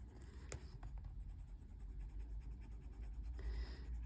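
A Bistre-coloured pencil, dull and overdue for sharpening, shades on paper in a colouring book, giving a close, steady scratchy rasp of continuous strokes with a few sharper scrapes.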